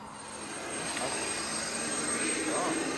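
A gas turbine engine on a model RC helicopter with a six-blade rotor head spools up, its steady roaring whine rising slightly in loudness at close range, with a faint high tone throughout.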